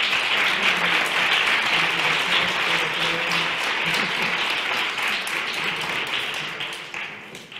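Steady, dense clapping from a forum audience honouring an award recipient, sustained for several seconds before tapering off at the end.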